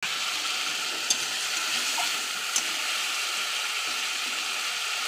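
Chopped tomato goes into a pan of frying spice paste for a vegetarian cabbage curry, bringing a steady, fairly quiet sizzle with a couple of faint clicks and no talking.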